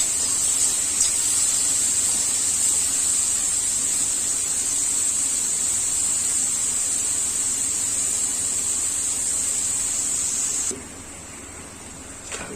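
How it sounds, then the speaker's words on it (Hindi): Kareel and tomato with salt cooking in a hot pan give off a steady, close sizzling hiss that holds evenly for about ten seconds, then cuts off abruptly near the end. "देखिए काफ़ी अच्छे तरीके से पक रहा है हमारा करील टमाटर"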